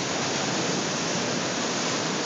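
Steady broadband rush of ocean water at Jones Beach, loud and continuous like surf washing close by, with no pause across the stretch.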